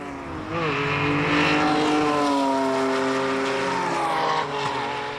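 Older and newer Lamborghini cars, including a 2003 model, racing together on a track, engines roaring loudly and climbing through the revs as they pass close by, a sustained high-pitched howl without speech.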